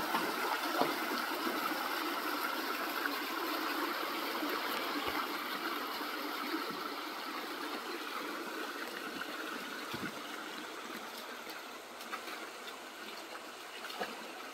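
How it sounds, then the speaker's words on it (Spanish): Continuous flowing water of the Tepozán stream, a steady broadband rush and trickle heard close and even throughout, with no voices. "Este es el arroyo del Tepozán."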